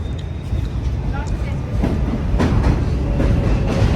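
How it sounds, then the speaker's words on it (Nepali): A New York City subway train rumbles into the station with a loud low roar and rhythmic rail clatter, growing slightly stronger over a few seconds. "यस्तो छ अहिले चाहिँ ट्रेन आइरहेको छ यहाँ"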